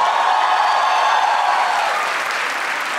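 Loud, steady applause from a comedy club audience at a Marathi stand-up show, a dense wash of clapping that fills the whole moment and tapers only slightly toward the end.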